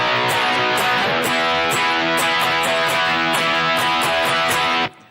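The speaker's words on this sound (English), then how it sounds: "So that 4-measure phrase of the chorus sounds like this." Distorted electric guitar power chords play the chorus, strummed in a steady driving rhythm, loud and close with no talking, before stopping abruptly near the end.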